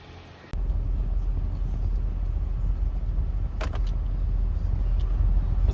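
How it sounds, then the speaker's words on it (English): A Prius rolls over an iPhone 16. A steady low engine and tire rumble starts abruptly and continues, with a short crackling burst partway through. "now we're running over it with a car"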